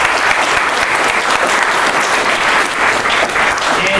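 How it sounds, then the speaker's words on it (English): A crowd at a board game convention panel applauds steadily, a dense wash of clapping that holds at full strength for a few seconds. "Give them a round of applause."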